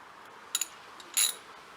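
A 12mm ratchet works on the wheel nuts of a Suzuki DRZ 400 supermoto, giving two short, close metallic clicking bursts with a quiet pause between them.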